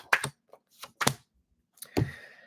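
Tarot cards being laid down on a table, producing a few close, light taps and flicks in separated bursts, alone and without talk.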